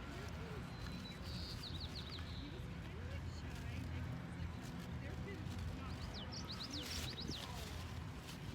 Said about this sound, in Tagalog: Ganda ng huni ng ibon.